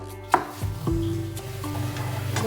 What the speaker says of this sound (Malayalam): തകൃതിയായി ഉള്ളി കട്ട് ചെയ്യുന്നുണ്ട്